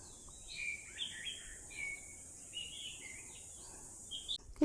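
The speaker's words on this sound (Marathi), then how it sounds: "पक्ष्यांचे आवाज येत आहेत." Birds sing in a quiet cashew orchard within a forest, with a series of thin, high chirps and short warbling phrases at moderate distance over a soft, hushed background, ending in a sudden close knock.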